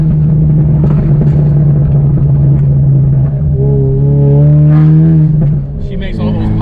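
A Ford Mustang EcoBoost with a burble tune drones in a low steady exhaust note, then crackles with faint pops as it downshifts and the engine note falls away, heard from close by.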